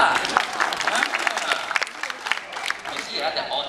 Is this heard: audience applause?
yes